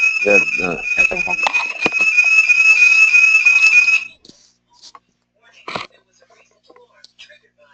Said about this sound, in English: my son opened the door and triggered the alarm